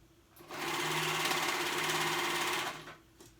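A serger runs continuously for about two seconds while sewing a seam on a jacket that converts into a backpack, its whirring hum loud and close, starting and stopping cleanly with no talk.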